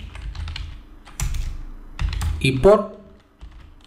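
Clicky computer keyboard typing in short bursts, close by, mixed under a man's Spanish speech while he works in Houdini 18 3D software.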